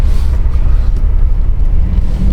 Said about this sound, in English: But I was just holding the engine RPMs up and it didn't change at all.